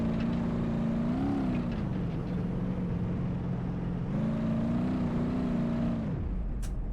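A Volkswagen Transporter T4 van drives off-road on a dirt road in BeamNG.drive. Its engine drones steadily and rises in pitch twice as it revs, while gravel and dirt crunch beneath it, before the engine drops away near the end.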